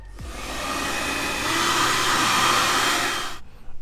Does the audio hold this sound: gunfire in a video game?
no